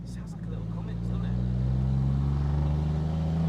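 A Mercedes 300D W124 diesel engine drones steadily from inside the cabin on a road trip through the New Forest, a low, even rumble that builds slightly as it pulls.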